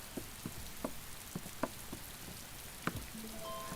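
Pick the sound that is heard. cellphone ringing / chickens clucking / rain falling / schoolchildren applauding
rain falling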